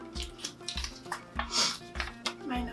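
Glass baby food jars being stirred and mixed with a spoon, with repeated clinking, scraping clatter and low thumps in a steady rhythm, close and fairly loud.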